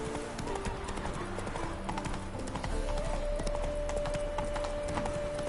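Roach, a horse in The Witcher 3, gallops at a fast, steady clip-clop of hooves under background game music and effects.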